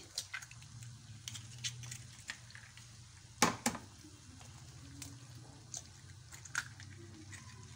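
Potatoes, flour and eggs being mixed quickly in a pan for tender pops: soft, wet squishing and scraping with scattered sharp clicks of the utensil, one louder clatter midway, over a low steady background hum.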